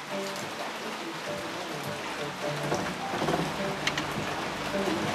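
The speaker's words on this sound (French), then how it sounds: "il y a tellement de pluie aujourd'hui, ça va être le bordel" Heavy rain falls outside a garage during brake work on a Citroën 2CV, a steady dense hiss with scattered drips and patter, fairly loud and continuous throughout.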